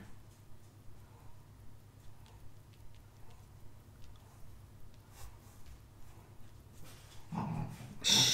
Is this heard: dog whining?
yes